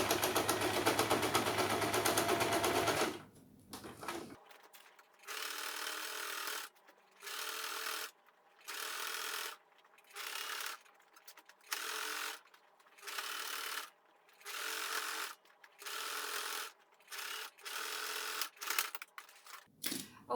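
Sewing machine stitching a fabric tote bag, running in about a dozen steady bursts of a second or so each with short pauses between, loud and close after a brief stretch of broadband noise at the start.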